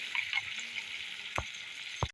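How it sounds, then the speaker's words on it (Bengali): Vegetables for handi biryani frying in a pan over a village cooking fire, a steady soft sizzle with two sharp scraping knocks of a wooden spatula. "এগুলো ভাজা হয়ে আসছে প্রায়।"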